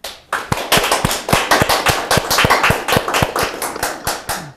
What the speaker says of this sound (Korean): 서로를 위한 힘찬 격려의 박수를 부탁드립니다.